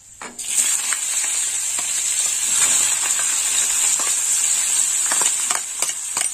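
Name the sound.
dried chillies and whole garam masala sizzling in hot oil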